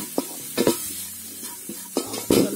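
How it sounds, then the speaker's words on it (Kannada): Ondelaga (brahmi) leaves are stir-fried briefly in a pan for chutney, giving a few distinct scraping and knocking strokes of a spatula against the pan over a soft sizzle, near and clear, with no talking. "ಸ್ವಲ್ಪ ಹುರಿದ್ರೆ ಸಾಕು, ಇದು ಹಸಿ ವಾಸನೆ ಹೋಗೋ ತನಕ"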